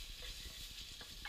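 Onions frying in a pan for cabbage soup, a soft continuous sizzle with faint stirring scrapes, quiet and steady throughout.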